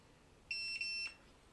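An ORTUR Laser Master 3 laser engraver gives one steady high-pitched electronic beep, about half a second long with a brief dip partway through, clear and close against a quiet room.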